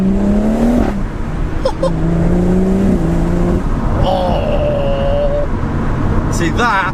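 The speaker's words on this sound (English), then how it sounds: "I see why people would get their exhaust done now." BMW M140i with a double resonator delete, its exhaust droning and rising in pitch through shifts at close range, with someone talking over it throughout.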